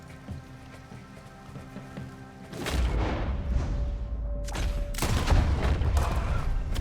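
Gunshots in Red Dead Redemption 2, two loud booming shots a couple of seconds apart, each followed by a rolling echo over a faint ambient background.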